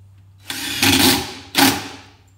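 An impact driver drives 1 5/8-inch exterior wood screws into wooden hive boxes in two loud rattling hammering bursts, the first about a second long and the second shorter, each followed by quiet.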